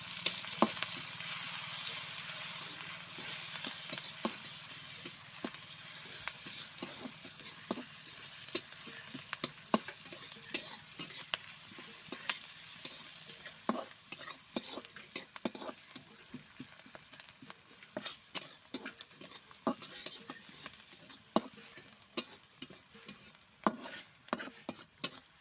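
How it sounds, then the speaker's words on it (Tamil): Onions, green chilies, garlic and bay leaves sizzle steadily in a pan while a utensil stirs and scrapes, with frequent sharp clinks against the metal over the constant frying hiss. "இப்போ நம்ம எல்லாம் கிளறி விட்டுடலாம்."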